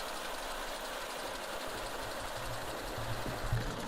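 An old combine harvester runs steadily at close range, its engine giving a continuous mechanical drone and rattle with a few slightly louder knocks toward the end.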